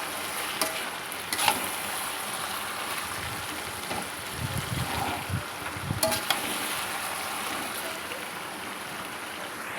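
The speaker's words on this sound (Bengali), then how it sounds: "আপনাদের কি সুন্দর বেরেস্তা ভাজা হয়েছে" Onions frying into crisp birista for biryani, with a steady broadband sizzle and a few louder bursts of stirring and clatter, close up and without talk.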